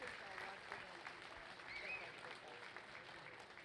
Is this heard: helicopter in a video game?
no